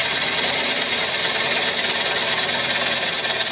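A lathe gouge rides the bevel as it cuts a cocobolo wood bowl, giving a steady, loud, hissing scrape with no pauses.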